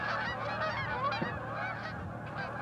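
Geese honk over a river on a March morning, a flock calling in a steady, overlapping gabble that stays loud and close throughout, with no talking.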